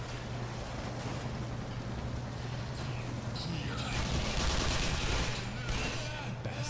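Gunfire in the video game Black Mesa, rapid bursts of shots over a steady low hum, growing denser and louder toward the end, with someone talking over it.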